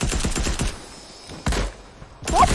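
Rapid Fortnite gunfire in a duo match, a quick string of loud close shots followed by a pause, then another burst and a final shot, with no talk over it.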